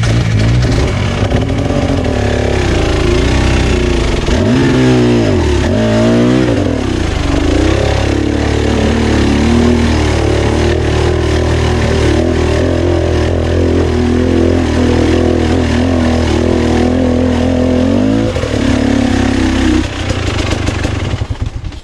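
A trail motorcycle engine revs loud and close, rising and falling through repeated throttle blips over a constant buzzing drone, with no talking.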